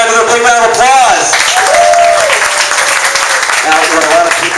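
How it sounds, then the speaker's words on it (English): A crowd at a networking event in San Jose, Silicon Valley, applauds continuously and fairly loudly while a presenter's voice carries over the clapping. "Give Sean Dyer a big round of applause."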